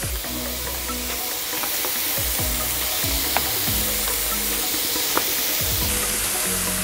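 Burger patties sizzling on a Blackstone griddle as a crust builds, a dense continuous crackle and hiss with occasional sharp pops and a faint low hum underneath.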